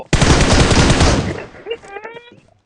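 Automatic rifle fire in the mobile game PUBG Mobile: a loud, rapid burst of close shots lasting over a second, then a ringing decay with faint clinks.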